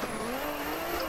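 A Nissan Skyline R32 drifting in the racing game Assetto Corsa, its tires spinning with a steady high squeal over a constant engine drone, in one brief unbroken stretch.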